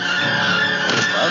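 Car tyres screech and skid steadily as the vehicle swerves to the roadside and halts, a loud continuous squeal with engine noise under it, no voices.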